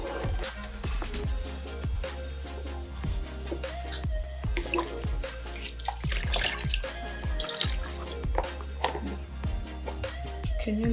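Water splashes and drips in a basin during a nursing foot-care procedure, a steady run of small close splashes and trickles with sharp drips throughout.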